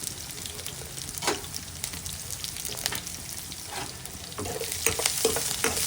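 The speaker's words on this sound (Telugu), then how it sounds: "ఈ ఆనియన్స్ మొత్తం ఇలా దోరగా వేయించుకోవాలి" Onions frying in a pan with garlic, green and dried chillies for a bottle gourd and toor dal curry, a steady close sizzle with intermittent scraping stirs throughout.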